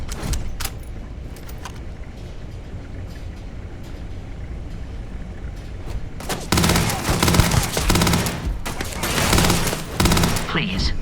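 A firefight in the video game Starfield, with scattered faint shots at first, then a loud stretch of dense, rapid gunfire with bursts and clatter, and voices talking alongside it.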